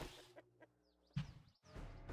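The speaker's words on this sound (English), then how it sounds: "Did I hear chicken noises?" A chicken clucking in the survival game 7 Days To Die, a few short faint clucks and squawks against a quiet background, with a soft voice briefly before.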